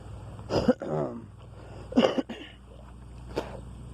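Several harsh coughs up close, two strong bursts followed by a softer one, with short pauses between and a quiet background hum.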